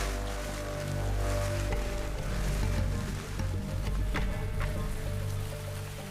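Steady rain pattering on a surface in East Africa, with a low rumble underneath and occasional louder drops.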